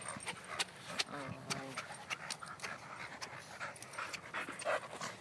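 A dog pants in quick rhythmic breaths at a park, fairly close, amid scattered thumps and outdoor noise, while people talk nearby.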